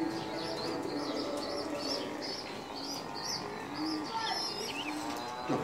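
Domestic pigeons coo repeatedly in a steady, close chorus, with overlapping soft calls and a few chirps from other birds, kept for fattening squabs.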